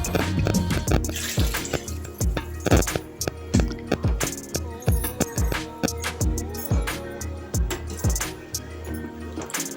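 Water pours and splashes into a metal pot for chicken biryani in uneven gushes, with clinks and knocks from nearby handling and no voices.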